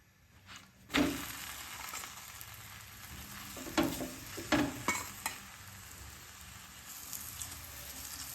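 Aloo paratha with sehjaan cooking on a tawa with ghee, a soft steady sizzle punctuated by a few sharp scraping clacks as the flatbread is flipped and ghee is spread.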